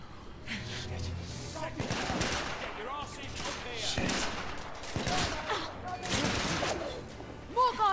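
Gunfire in the video game The Order 1886: bursts of shots and rapid automatic fire crackle in a fairly distant, low-level firefight, with voices heard between the volleys.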